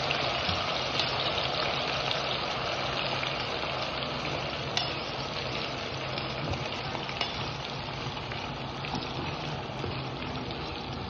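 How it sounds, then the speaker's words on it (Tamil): Half a kilo of chicken fries in a pan, giving a loud, steady sizzle with bubbling crackle that runs unbroken throughout, with no voices. "இதை நம்ம நல்லா ஃப்ரை பண்ணிக்கணும்."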